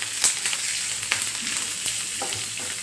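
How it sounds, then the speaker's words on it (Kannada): Cumin, dried red chillies and curry leaves fry in hot oil for hotel-style tomato rasam, a dense close sizzle and crackle with scattered stirring clatters, with no talk. "ಜೀರಿಗೆ ಹಾಕ್ಕೊಂಬಿಡಿ ಒಣಮೆಣಸು ಬಾಡಿಗೆ ಮೆಣಸಿನ್ಕಾಯಿ ಕರಿಬೇವು ಲೈಟಾಗಿ ಫ್ರೈ ಮಾಡ್ಕೊಬಿಡಿ"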